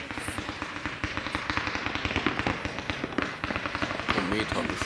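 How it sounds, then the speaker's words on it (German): A firework barrage, a 51-200 shot blue comet to brocade waterfall, fires a rapid, steady string of sharp pops and thuds, fairly close, while people talk over it. "Es folgt jetzt die 51-200 Schuss blauer Komet zu Brokat Wasserfall."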